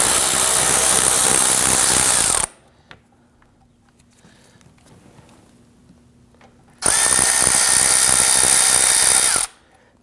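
Two loud bursts of a power tool whirring as it removes screws under a 2009-2017 Volvo XC60's engine area, each lasting a couple of seconds, separated by a quiet pause with faint background hum.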